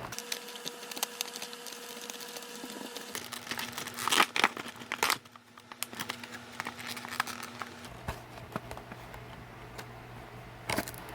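Plastic packaging around a SpongeBob SquarePants toy being torn and opened, with close crinkling, crackling and sharp rips, a loud burst near the middle, over a steady low hum.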